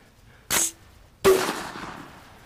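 A single sharp blast from an X Products can cannon, a loud close crack with a quick echoing tail, preceded about a second earlier by a shorter burst of noise.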